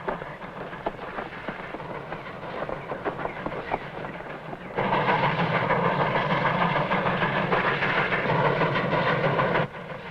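A steam train rumbles along the rails with a steady rushing clatter, growing noticeably louder midway and then dropping back near the end.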